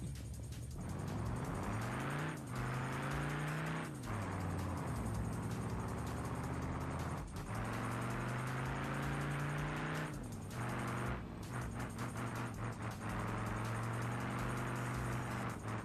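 A car engine drones in a video game, rising steadily through gears with repeated shift drops and revs, continuous and fairly loud.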